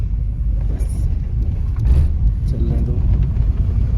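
A car descending a steep mountain road on a Ladakh road trip, braking and dropping into first gear, makes a steady low engine rumble with wind noise throughout, while someone talks over it.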